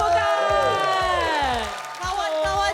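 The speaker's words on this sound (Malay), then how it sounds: "Berikan tepukan." A live indoor crowd at a Singapore variety show cheers and claps loudly, with whoops and shouts rising and falling across a few seconds under a dense wash of voices.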